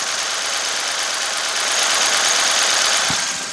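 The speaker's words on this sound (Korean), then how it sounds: "바로 엔진 소리 한번 들려드릴게요." A 2012 Kia All New Morning with the hood open idles at close range, giving a steady, even engine drone and a faint ticking rattle throughout, with no talking.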